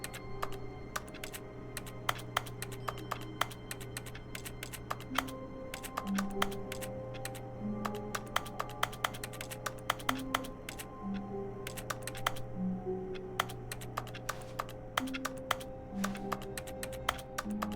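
Rapid keyboard clicking runs throughout while playing The Stanley Parable, steady taps and clusters of keystrokes sitting over a low sustained game music bed.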